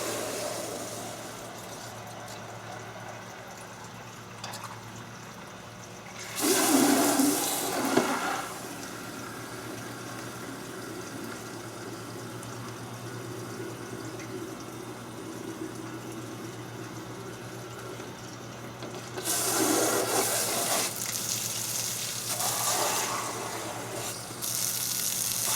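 A Hydrautomat self-powered water pump refilling with water, a low steady hum with two louder bursts of gushing, splashing water, one brief and one longer, heard alone.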